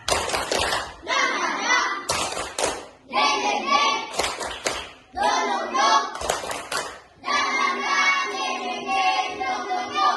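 Schoolchildren in an elementary school class perform the tepuk semangat routine, sharp rhythmic clap bursts alternating with chanted words in a repeating pattern, close and lively.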